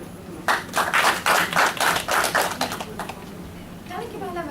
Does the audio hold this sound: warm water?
no